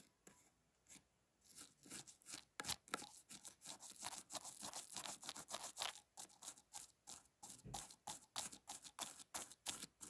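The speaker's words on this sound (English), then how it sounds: "Right now, I'm going to just brush your eyebrows." A makeup brush swept through eyebrows in close-up, soft bristly scratching strokes repeated in a steady rhythm, quiet and intimate with no talking.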